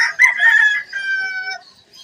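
A single rooster crows nearby at a pet market, one clear drawn-out cock-a-doodle-doo that rises and then tails off, with faint background sound after.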